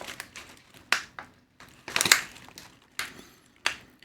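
Close, crisp crunches of crunchy nuts at irregular intervals, with several sharp bites and a dense burst in the middle, and no talking.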